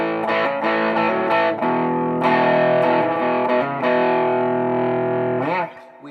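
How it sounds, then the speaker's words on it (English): Distorted electric guitar playing sustained, gritty chords and riffs, loud and close, with a brief pause before the final notes fade out. "I like to have a little distortion on because this is when it starts to get going"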